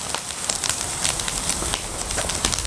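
A campfire burns in a Snow Peak Takibi fire pit at a campsite, with steady close crackling and sharp pops scattered through a soft hiss.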